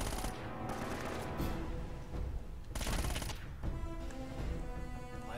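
Gunfire in the Uncharted: Drake's Fortune game, bursts of rapid shots and sharp cracks mixed with music and game effects.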